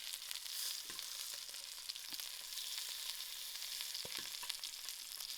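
Lamb shanks brown in a pot of hot oil, throwing off a steady hissing sizzle with a few scattered pops and light knocks as they are turned, close by but fairly quiet, no voices.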